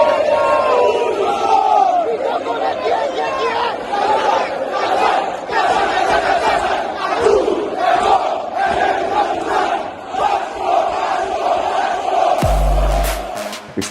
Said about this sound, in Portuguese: lá no Rio de Janeiro tem um grito parecido que é conhecido por casaca